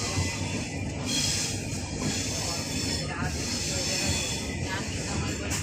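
A train rolls steadily along the rails, a loud continuous rumble with hiss and faint wheel squeal, heard from on board with voices murmuring underneath.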